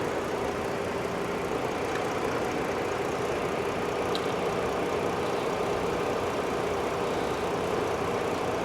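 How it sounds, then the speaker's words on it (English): Radiator cooling fans running on a Ford Explorer, a steady close whooshing drone with a low engine hum beneath, constant throughout without pauses. "Yep, fans kicked on."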